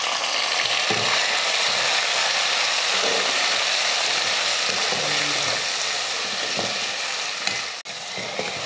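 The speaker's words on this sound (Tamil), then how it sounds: "இதில் 2 தக்காளி சேர்த்துக்கலாம்." Tomatoes cook with onions in a hot pan, a dense continuous sizzle with scattered scraping stirs and a sharp knock near the end, close and without speech.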